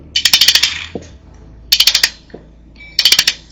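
Ratchet spinning a bolt loose on a Honda K24 engine swap, three separate bursts of rapid metallic clicking close up, with quieter knocks between them.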